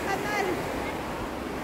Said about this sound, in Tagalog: Diyan, may kanal. Tubig sa kanal.